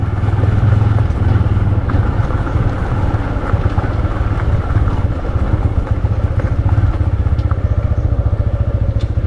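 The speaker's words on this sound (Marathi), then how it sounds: "गाडी तो चेन सेटचा आवाज येतो" Loud, steady Bajaj motorcycle engine drone on the Mumbai–Goa highway with a dense low rumble and fine rapid rattling from the chain set throughout, no talking.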